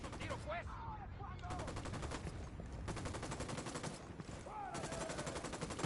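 Rapid automatic gunfire from a sniper encounter in Ghost Recon Wildlands, loud and continuous with dense repeated shots across the whole stretch, briefly thinning and resuming, with faint voice fragments mixed in.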